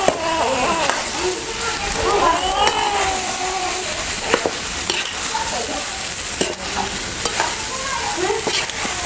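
Soybean and yogurt curd mixture being stirred and fried in a pan, with a steady sizzle and scraping spoon strokes throughout, while a voice talks over it.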